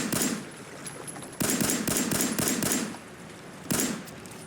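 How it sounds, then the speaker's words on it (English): Several 10mm pistol shots fired at fish in Fallout 4, arriving as a quick cluster of sharp cracks in the middle and one more shot after a pause, over a soft background bed. "First, I'll try with my 10mm pistol."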